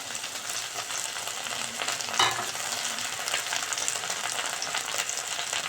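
Food sizzles in hot oil in a pan, a dense, steady crackling hiss heard up close throughout, with one brief louder pop near the middle.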